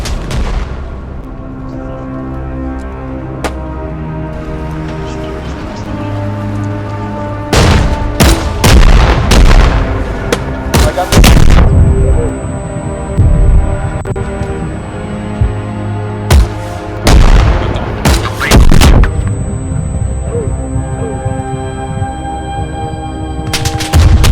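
Artillery strikes and gunfire in the military game Arma Reforger, with a low rumbling backdrop and then loud bursts of rapid automatic fire and heavy booms arriving in clusters.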